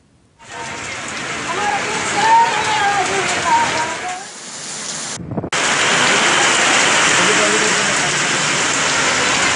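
Heavy rain pouring down during a sudden storm in Vizianagaram, a dense steady roar of drops that briefly eases, cuts out, then returns loud and unbroken; a voice speaks over the first part.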